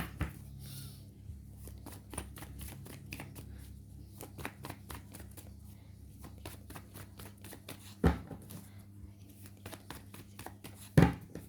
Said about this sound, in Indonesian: langsung aja di sini coba aku ambil lagi tebaran kartunya